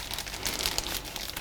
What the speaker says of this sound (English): Now we'll pop the dough into a plastic bag